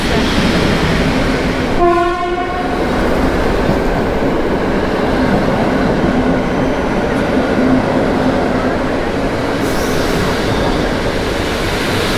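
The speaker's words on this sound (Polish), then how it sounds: "lokomotywa EP07" A Polish EP07 electric locomotive rumbles steadily past a station platform up close, with a short horn blast near the start over the continuous rolling noise of the cars.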